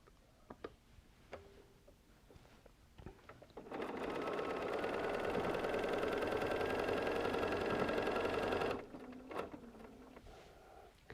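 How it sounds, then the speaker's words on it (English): A sewing machine stitching batik quilt block pieces, a steady rapid whir running for about five seconds, set between quieter handling clicks and pauses. "Just get to sewing."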